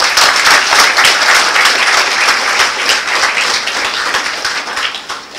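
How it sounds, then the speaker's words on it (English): Graduates giving a big round of applause at IIIT-Delhi's convocation ceremony, a loud, dense, sustained wash of clapping from a large hall audience, easing slightly toward the end. "big round of applause"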